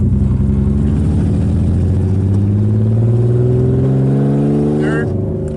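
Drift car engine pulls up through the gears, pitch climbing steadily, dropping at the shift and climbing again, loud and close from inside the car, with a voice briefly over the end.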